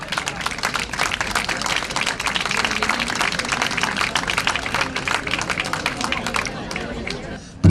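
Steady, dense audience applause at a prize-giving for a hiking race in Zaragoza, many hands clapping continuously and fairly loud, with crowd murmur mixed in and a sharp sound at the very end.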